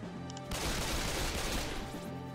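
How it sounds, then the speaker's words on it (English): Gunfire in a video game, a dense burst of rapid shots that starts suddenly and continues loudly over a steady tonal game soundtrack before easing off. "someone's shooting me"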